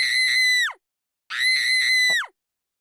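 A person lets out two loud, close, high-pitched screams, each under a second long and separated by a brief pause, with no other sound around them.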